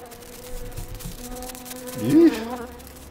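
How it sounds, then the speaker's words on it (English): Insect-like buzzing of bees in the video game Tesla Effect, a wavering drone that swells briefly near the end over low game ambience. "Bypass the bees!"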